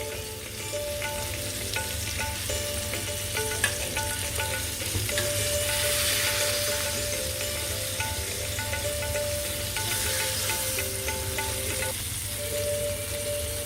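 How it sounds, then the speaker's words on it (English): Veal shanks frying in a pan with a steady, close sizzle and crackle throughout, loud and continuous with faint clinks, no talking. "I'm also going to fry it on the sides."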